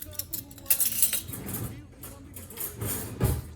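Wet pancake ingredients being mixed with a utensil in a bowl for vegan, oil-free whole wheat pancakes, giving a run of clinks and scrapes against the dish at close range, with soft movement sounds in between.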